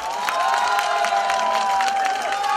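Crowd at a 2017 presidential campaign rally in Ulsan, South Korea, cheers and applauds in a steady, loud wash of claps and shouts, with whistles and a few bright tonal calls riding over it throughout.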